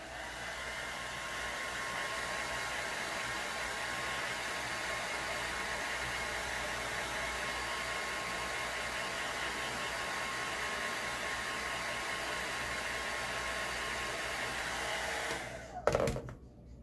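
A hair dryer runs steadily at close range, drying chalk paint on cut-out egg carton pieces, a constant broadband whoosh that stops abruptly near the end with a brief clunk.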